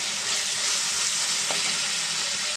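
Ginger garlic paste, heavy on garlic, frying in a pan for a fish curry makes a loud, continuous bright sizzle with faint stirring underneath, up close, and it cuts off abruptly at the end without speech.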